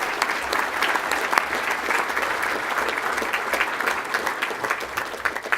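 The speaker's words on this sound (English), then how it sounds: "Let's give him a round of applause." An audience at a high school football banquet gives a sustained round of applause, dense and even clapping throughout with no voices standing out.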